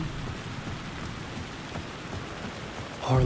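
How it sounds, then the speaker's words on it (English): Steady rain pours in the game Alan Wake 2, a dense even hiss of drops on surfaces heard alone throughout, with a slight louder swell at the very end. "Raining."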